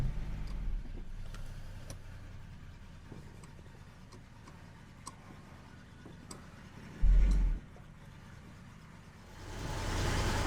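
A Jaguar XJS V12 engine idles inside a garage as a low, steady hum with faint ticking, briefly louder near the end as the car begins backing out.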